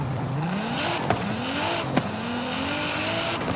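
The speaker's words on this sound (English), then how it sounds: "because this car is all-wheel drive as standard, it actually launches pretty good as well" An all-wheel-drive Pulsar with a GTR engine launches hard in Forza Horizon 5, its engine note climbing through rapid gear changes with brief shift cuts, loud and close with tire noise underneath.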